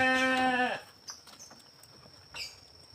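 A goat gives one loud, close bleat lasting under a second, then a quiet pause with faint background sounds.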